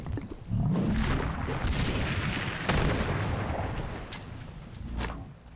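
Grenade blasts and gunfire in the video game Fallout 76, a loud, continuous rumble of explosions with sharp shot cracks breaking through, heard up close without talk.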